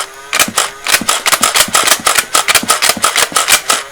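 A Nerf Rebelle Fearless Fire blaster fires a fast, steady string of sharp plastic snaps and clacks, about a dozen in a row, close and loud with no talking.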